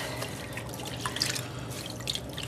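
Water drips and trickles from a heavy, soaked wool sweater as it is squeezed and lifted out, a soft, steady patter of drops with a few brighter splashes, close by and without talk.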